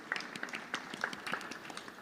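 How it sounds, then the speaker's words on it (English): Conference audience applauding at a venture capital event, a faint, distant patter of scattered claps with no voices over it. "Let's give a round of applause for those people that raised their hands."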